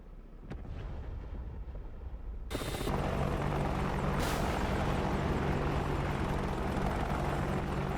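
An Apache attack helicopter in the DCS combat flight simulator game: after a quiet stretch, rotor and turbine noise cuts in abruptly and holds as a loud, steady roar.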